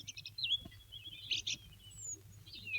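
Sparrows chirping in short, high twittering bursts, some quick rising and falling calls, set against a low steady background hum; the birds are moderately close and fairly faint.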